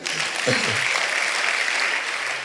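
A church congregation breaks into sustained, dense applause at close range, steady and enthusiastic, with a brief voice cutting through near the start.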